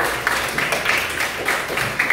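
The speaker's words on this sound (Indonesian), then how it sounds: "Tepuk tangan untuk Putri." Classmates applaud a student in a classroom, a short burst of steady scattered clapping at moderate loudness.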